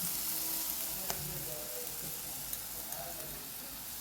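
Chili powder going into masala sautéing for a Kerala prawn curry with kudampuli, a soft continuous sizzle with a few faint stirring clicks, fairly quiet.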